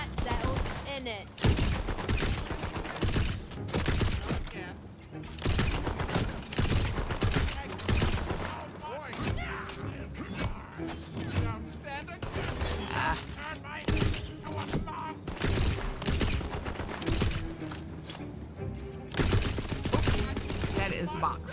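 Gunfire in the video game Fallout 3, with loud repeated bursts of shots and thuds that crowd together almost nonstop across the stretch, game sounds layered on top and a voice talking intermittently.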